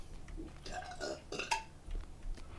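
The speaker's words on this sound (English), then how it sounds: "If it sounded like there was a tiger growling, that was just her belching." A woman's belch, deep and growling, comes as a couple of short gurgling bursts close to the microphone over a quiet background.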